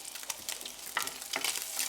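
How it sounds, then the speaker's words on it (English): Butter sizzles and crackles steadily in a hot pan as cured veal and walnuts fry and are stirred, a close, continuous frying hiss with small pops throughout. "wait for the butter to melt and start to sizzle before adding your cured veal"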